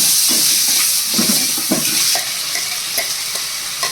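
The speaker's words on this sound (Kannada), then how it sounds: "ಉಪ್ಪು ಹಾಕೊಂಡು ಎಲ್ಲನೂ ಚೆನ್ನಾಗಿ ಮಿಕ್ಸ್ ಮಾಡ್ಕೊಬೇಕು" Spinach rice mixture with salt being stirred in a hot pan, close sizzling frying with repeated scraping strokes of the spoon against the pan, continuous and fairly loud with no talk.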